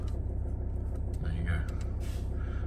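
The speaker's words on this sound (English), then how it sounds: "Let's just start the car up." A 2012 Volvo S80 2.0 D4 diesel idles with a steady low rumble throughout, heard from inside the cabin, while a person speaks quietly over it.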